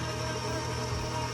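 A stand mixer hums steadily while beating two eggs into chocolate chip cookie dough, giving a constant motor drone at even volume with no pauses and no talking.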